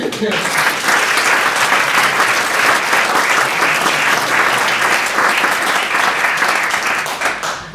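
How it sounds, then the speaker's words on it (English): An audience at a science-talk competition semi-final in Basel claps loudly and steadily for nearly eight seconds, then fades at the end. "Big applause to Ahmed"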